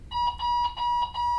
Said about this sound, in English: Uh-oh, that's my alarm.